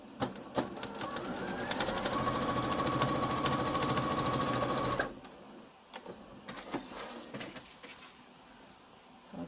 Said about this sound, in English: I'm going to sew across that next